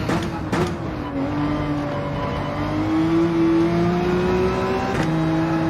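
Porsche 911 RSR race car accelerating in Gran Turismo 7 at Mount Panorama, a steady engine tone rising in pitch through the gears, loud and continuous, with a brief shift blip partway through.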